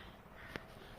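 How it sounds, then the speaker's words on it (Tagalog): A single brief crow caw rises faintly at a distance over a low outdoor background hum, heard once and not repeated. "Mga uwak, oh."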